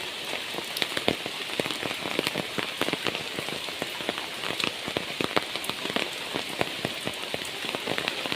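A downpour of heavy rain drums steadily on nearby surfaces in a storm, a dense continuous hiss peppered with crisp individual drop hits, with no talking.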